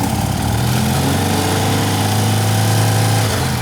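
BMW Airhead motorcycle engine revving up during an alternator upgrade, a loud, steady buzzing drone with rising pitch held throughout, close to the listener, with no talk.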